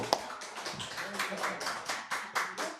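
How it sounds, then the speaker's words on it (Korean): A small church congregation claps together, a brisk run of hand claps lasting a few seconds, fairly close. "이거는 정말 격려의 박수 한번 드리고"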